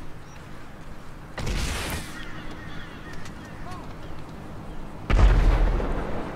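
Rockets fired to shoot down an aircraft in the GTA Online video game burst twice as loud booming explosions, the second heavier and more sustained, with quieter game noise between them.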